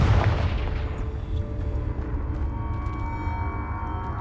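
A fiery Confringo spell blast in Hogwarts Legacy erupts as a loud, deep boom up close, then trails off into a long rumbling roar with a faint whooshing tail.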